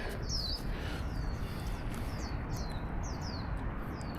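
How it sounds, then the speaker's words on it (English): Several high, quick bird chirps repeat every half second or so over a steady low rumble of traffic-like background noise, heard on a morning commute in Orange County, California. "All right, hear the birds."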